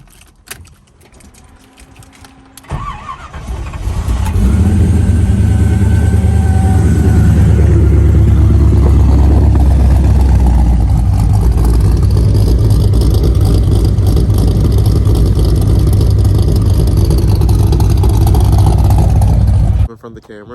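A 5.7-liter V8 swapped into a BMW E36 cranks and fires up after a quiet start, then idles loud and lumpy with an aggressive cam and revs, running steadily close to the microphone until it cuts off near the end.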